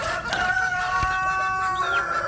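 Chickens on a small poultry farm cluck and call close by, several overlapping bird voices with a brief rooster-like rising note near the end.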